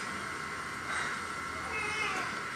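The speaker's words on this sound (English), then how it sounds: "My cat chimed" A house cat meows faintly indoors, a couple of soft calls rising over steady background hiss.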